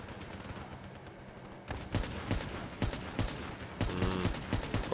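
Rapid gunfire from the video game Call of Duty Black Ops 3, a run of sharp repeated shots in uneven bursts against a steady battle background, fairly loud and close.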